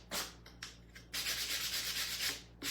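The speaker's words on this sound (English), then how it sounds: "we're just gonna sand the side of this one" Sandpaper rubs steadily on the side of a wooden cutting board. A few short, close, fairly loud strokes lead into one long continuous pass, and there is no talk.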